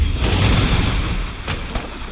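A charge blade Super Amped Elemental Discharge attack in Monster Hunter World erupts in a loud booming explosive blast with a rumbling tail and a couple of sharper follow-up impacts.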